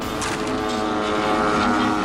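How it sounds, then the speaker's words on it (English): Ultralight plane at an air show in Australia, its propeller engine droning steadily and loudly with a sustained buzzing tone throughout, no voices. "An air show takes a frightening turn when an ultralight plane flies off without its pilot."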